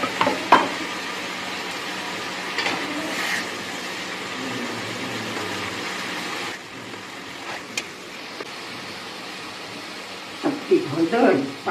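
Finely chopped onion sizzles in a hot frying pan with a broad, steady hiss that drops away partway through, followed by stirring clatter and people talking.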